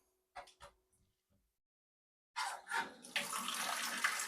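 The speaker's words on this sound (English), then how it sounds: "you can run some water down it just to kind of make sure that" Water runs steadily down a cleared bathtub drain, a close, loud rushing that starts after a few brief knocks and a short silence.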